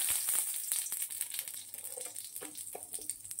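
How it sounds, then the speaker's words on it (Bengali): Radhuni tempering spices sizzle in hot oil with fish, making a faint, hissing fry with soft crackles and small pops close by, with no talking. "রাঁধুনি ফোড়ন দিলাম।"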